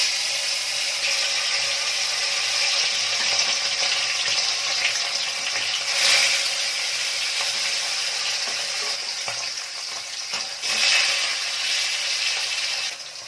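Bata fish frying in smoking-hot oil in a wok, a steady close sizzle and crackle running throughout with a few brief louder spatters, no voices.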